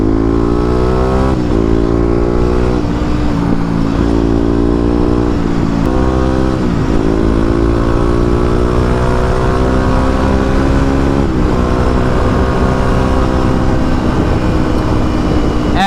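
Kawasaki KLX250 dual-sport motorcycle accelerating onto a highway, its loud, close engine climbing through rising pitch sweeps with gear shifts, steady roar and wind throughout with no talking.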